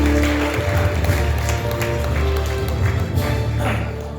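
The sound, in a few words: audience applause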